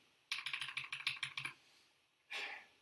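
Quick run of keystrokes on a computer keyboard, about ten close, crisp clicks in a rapid burst, then a pause and one longer key press or clatter.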